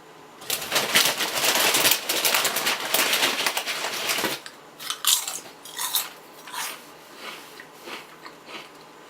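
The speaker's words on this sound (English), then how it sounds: "Who's crunching?" Crunchy snacks being bitten and chewed close up, a dense run of crisp crackling crunches for about four seconds, then sparser separate crunches tapering off, with no talking.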